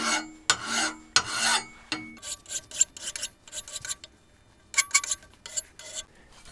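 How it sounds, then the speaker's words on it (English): Metal file rasping lightly across the burred front edge of a wood lathe part, a series of short dry scraping strokes, close and fairly loud at first, then quicker lighter passes, with no talking. "I'm just going to run the file over that lightly"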